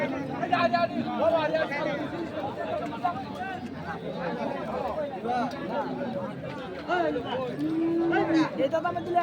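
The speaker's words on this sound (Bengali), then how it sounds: "এখানে আরেকটি বড় গরু দেখছেন" Large bulls low at a busy livestock market; a drawn-out moo stands out near the end while crowd chatter and people talking continue throughout.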